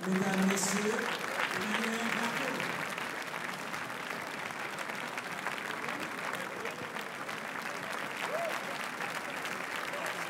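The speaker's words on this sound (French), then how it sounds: "Écoutez l'ovation du public pour toute l'équipe de La Tête Haute." An audience on the red carpet steps at the Cannes film festival gives the cast and crew of a film a sustained ovation. Dense clapping continues steadily at a distance, with crowd voices mixed in.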